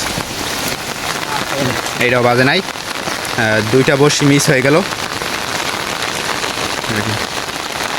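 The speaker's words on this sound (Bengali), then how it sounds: "আজকে সকাল থেকে বৃষ্টি নামতে আছে ভারী বৃষ্টি হয়েছে কিছুক্ষণ আগে আর একটু এখন কমছে" Steady rain falls as a constant hiss beside a rice paddy field across the whole clip, easing after a heavy spell, with someone talking briefly over it.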